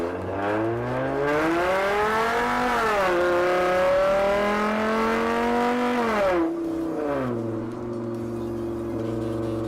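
A tuned Volkswagen Golf MK6 hatchback engine revs up through rising gears, the pitch climbing and dropping with each shift, loud and close, then settling into a steadier drone.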